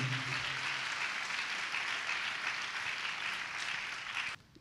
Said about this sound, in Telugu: చప్పట్లు కొట్టి దేవుని మహిమపరుద్దాం గట్టిగా.